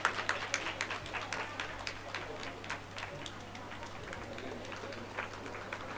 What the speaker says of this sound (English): A big round of applause for him for the hard work that he's done